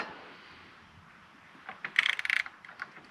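A socket wrench ratcheting on the timing chain of a 2012 VW GTI, a short burst of sharp metallic clicks after a quiet start, close and fairly crisp, with no one speaking.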